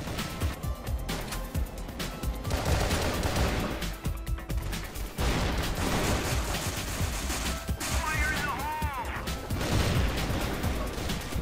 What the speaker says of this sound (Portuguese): tem alguém atirando ali